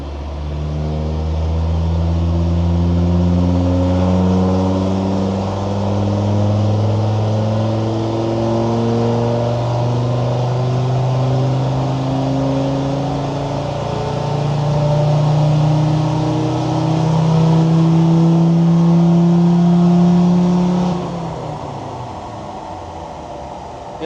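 A Land Rover Defender Td5 diesel with a Stage 2 remap revs hard on a dyno run, a loud, steady engine drone rising in pitch over about twenty seconds before backing off abruptly near the end.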